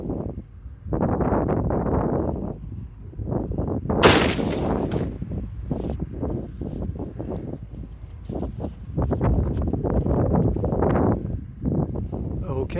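A single sharp rifle shot fired at a target 202 yards away cracks out once, loud and close, with someone talking before and after it amid wind noise.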